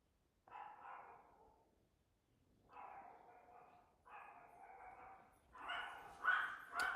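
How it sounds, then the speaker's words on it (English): Small yappy dogs bark in several bursts indoors, somewhat distant and moderately loud, growing busier and sharper toward the end with no talking over them. "sorry if you hear the barking. My mom's dogs are yappers."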